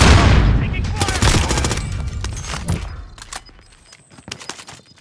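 Gunfire in a military shooter video game, a loud burst of rapid automatic fire mixed with single shots and a heavy opening blast, fading to scattered distant shots and clinks toward the end.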